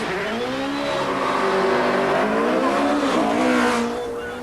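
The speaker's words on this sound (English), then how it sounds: "This run by Paul's 4-litre Pilbeam MP58 was the fastest ever seen" A Pilbeam MP58 racing car with a 4-litre engine makes a flat-out speed run at the Brighton Speed Trials, a loud, sustained engine howl rising in pitch through the gears with a brief dip, close and continuous before trailing off.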